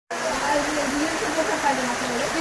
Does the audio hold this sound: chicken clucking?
no